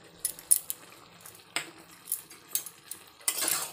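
A spoon stirs a vegetable and chana dal curry in a pan, giving close metallic clinks and scrapes in an uneven rhythm, with a longer scraping stroke near the end and no speech.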